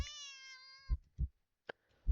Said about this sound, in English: The cat meows at you again, but sounds much deeper than earlier.